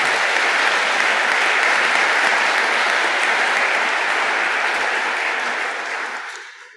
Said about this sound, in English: let's kind of give him a virtual round of applause for supporting the community.